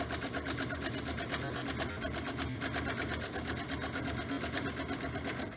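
A sewing machine stitches a fabric face mask with a fast, continuous rhythmic whirr and needle clatter running steadily at close range, with a few forward stitches and a short reverse.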